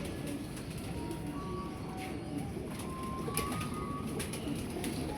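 Soft, low pigeon coos repeat under a steady background hum, with a few faint higher bird chirps mixed in.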